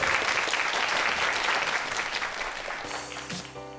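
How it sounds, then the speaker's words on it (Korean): An audience applauds at the close of a Korean youth-startup talk-show segment, dense continuous clapping that thins toward the end as a musical sting comes in. "박수 한번 부탁드릴게요"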